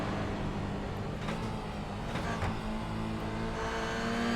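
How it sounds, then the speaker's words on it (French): Toyota GR86 race car engine heard onboard during a GR86 cup race, a steady loud drone of engine and road noise held near constant the whole time. "Allons à bord de la voiture de Monsieur Gignac."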